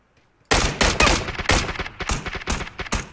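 Gunfire in a video game erupts suddenly into rapid, loud, close bursts of shots that continue in an uneven rhythm to the end.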